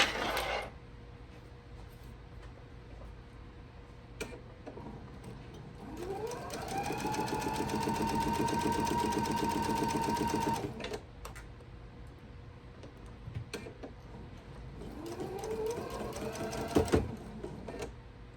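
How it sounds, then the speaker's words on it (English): Sewing machine stitching a quilt block seam, a short idle hum, then a steady mechanical whir ramping up for several seconds and stopping, followed by a second shorter burst of stitching near the end. "So let's go ahead and sew that."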